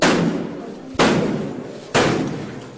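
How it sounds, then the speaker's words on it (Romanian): Police strike a door three times in steady succession, each heavy slam ringing out and decaying before the next, loud and close with no voices. "În acest moment, poliția încearcă să-mi spargă ușa și vor intra în orice moment."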